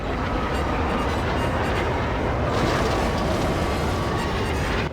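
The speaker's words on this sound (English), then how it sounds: "Hello, little monorail shuttle." A small monorail shuttle rolls past in the Star Wars Racer video game, a steady loud rumbling rail hum with faint clattering that holds for the whole stretch, with no voices.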